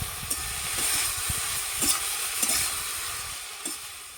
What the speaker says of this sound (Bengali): এরপর আমি শাকটা ধুয়ে রেখেছিলাম, সেটা আমি দিয়ে দেবো